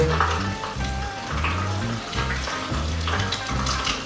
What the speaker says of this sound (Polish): Tutaj słychać jakieś tam e, przepływ wody